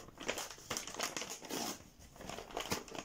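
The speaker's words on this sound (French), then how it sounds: "je déchire le paquet" Paper gift wrapping being torn and crinkled open by hand on a package of chocolates, a soft, close rustling and ripping in quick bursts.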